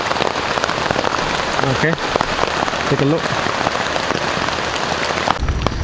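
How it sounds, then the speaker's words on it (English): Steady, dense rain patters on surfaces in a rainforest at a wild camp, loud and continuous throughout, with someone speaking briefly over it. "I just finished taking off the branch in the forest there, and then the rain just come out."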